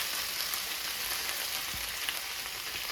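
Mushrooms frying in a pan, a dense continuous hiss and crackle held close and even throughout, with no voices.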